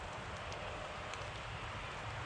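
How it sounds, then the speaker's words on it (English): Soft, steady rainfall outdoors in windy deer-hunting woods, a quiet even hiss with a faint low rumble underneath. "The rain had stopped for a while, but it's picking back up again."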